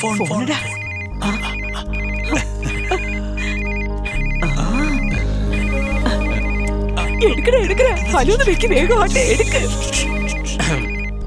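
A phone rings with a repeating electronic ringtone melody, steady and fairly loud, while people talk over it throughout.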